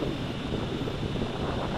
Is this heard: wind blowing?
yes